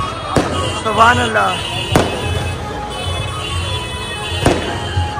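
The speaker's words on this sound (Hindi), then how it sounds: "इस साल भी देखिए पटाखे फोड़ते हुए यहाँ पर आपको" Firecrackers burst at a procession at Ajmer Sharif, three sharp loud bangs spaced about every two seconds over a busy outdoor crowd with voices talking and chanting.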